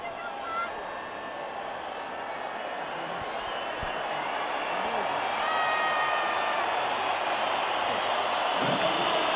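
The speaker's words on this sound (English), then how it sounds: "let's just listen to that crowd" A large stadium crowd in Johannesburg roars after a Springboks vs All Blacks rugby match, a dense, steady wash of cheering and babble that swells slightly toward the end.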